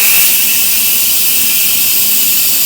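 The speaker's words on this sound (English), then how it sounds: "I'm going to do a quick release, which means I'm going to open the valve." Loud, steady hiss of steam blasting from an Instant Pot's quick-release valve while a shrimp boil cooks, a continuous broadband rush without a break.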